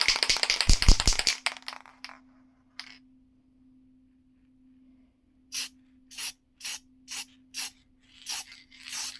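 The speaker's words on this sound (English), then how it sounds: "I'll copper spray brand new head gaskets." Copper spray sprayed from an aerosol can onto brand new head gaskets during an LS engine build for a Miata, a row of short hissing bursts in quick succession after some rattling and a faint steady hum.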